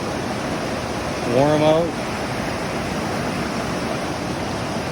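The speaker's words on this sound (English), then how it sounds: "The water comes down like this, and then it goes to a waterfall right here, a little waterfall." A small waterfall pours beside a river back eddy pool, giving a steady, broad rushing wash that fills the whole clip while a person speaks briefly near the start.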